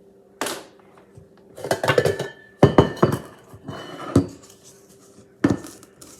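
A mixing bowl is lifted out in a kitchen while preparing to bake cookies, with several sharp clinks and clatters of dishes in quick bursts, close and fairly loud, with short pauses between them.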